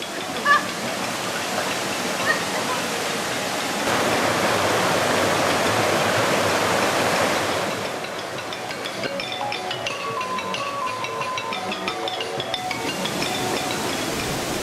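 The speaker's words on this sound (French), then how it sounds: "Nous longeons la rivière Meitang." Meitang river in Thailand flowing steadily, a broad rushing water wash that swells louder midway, then eases as faint bird chirps and clinks rise over it.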